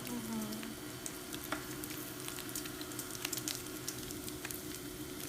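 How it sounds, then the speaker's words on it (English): Bacon and minced shallots sizzle steadily in a pan, a dense, even crackle with small pops, close and moderately loud with no talking. "Bacon is starting to get crispy."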